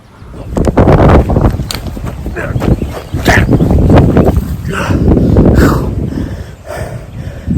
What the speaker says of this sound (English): where's this wind coming from? It was completely calm.